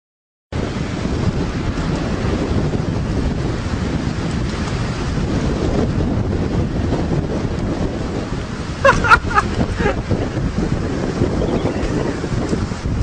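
Strong wind during a big windstorm buffets the microphone with a loud, steady roar throughout, broken by a brief flurry of sharper knocks partway through, with no voice heard.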